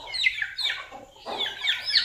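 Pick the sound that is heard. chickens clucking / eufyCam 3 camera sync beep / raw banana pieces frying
chickens clucking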